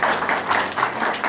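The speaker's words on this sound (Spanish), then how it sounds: "Don Tomás, don Mateo, yo pido un fuerte aplauso para ellos" A short burst of group clapping at a regional Indigenous languages event in Limpio, steady and fairly loud, with individual claps blurring into a continuous patter.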